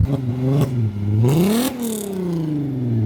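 A VW Up with its hood open revs its small engine while being turned around, the pitch climbing and falling in several close, loud surges before settling into a steady idle-like drone.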